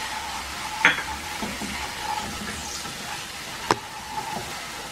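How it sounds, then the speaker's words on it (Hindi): Masala for dahi baingan fries in a pan, a steady close sizzle with a couple of sharp scraping stirs, and no voice over it. "मेरा मसाला भून चुका है बस एक दो तो मिनट से और बनाएंगे"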